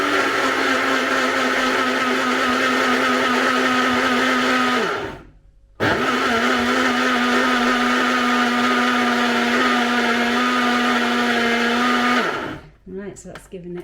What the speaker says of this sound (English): So really mixing it in well with your electric blender.